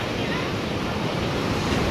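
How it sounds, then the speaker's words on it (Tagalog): Loud, continuous roar of big ocean waves with heavy wind noise buffeting the microphone. "Lalaki ng alon na"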